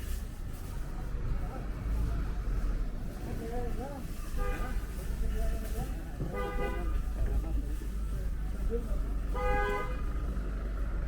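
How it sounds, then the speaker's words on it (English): Evening rush-hour traffic on 5th Avenue in Bay Ridge, Brooklyn, rumbles steadily while car horns toot in several short bursts, some doubled, moderately close, with faint voices in the background. "there is a lot of traffic tonight."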